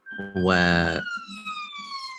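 A police siren passes outside, its wailing tone rising and sliding down while a voice briefly overlaps at the start, the siren fading slightly as it moves off.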